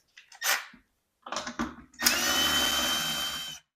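Power tool whirring while Phillips screws are backed out of the bumpers on a CAT power station during a teardown: two short bursts, then a steady close driver run of about a second and a half.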